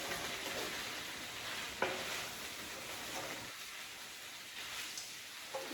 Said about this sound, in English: First I'm going to stir in my cashews.